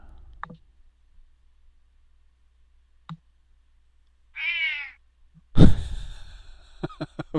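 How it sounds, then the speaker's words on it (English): A 17-and-a-half-year-old cat gives a single drawn-out meow in a quiet room, preceded by a few faint clicks and followed by a loud sharp noise and rapid clicks. "It sounds like about a 19-year-old cat."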